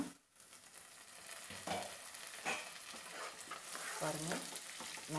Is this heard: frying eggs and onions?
yes